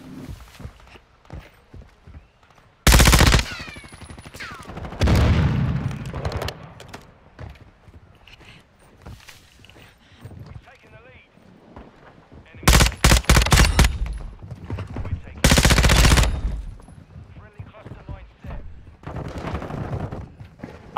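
Gunfire in Modern Warfare 2: loud bursts of rapid automatic fire in several separated volleys, close and dominant, with quieter in-game movement between bursts and occasional talking.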